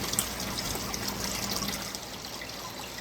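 Pumped water flowing through a creek in an indoor regenerative pond garden, a continuous bright trickling and splashing that stays steady and fairly loud, with no voices.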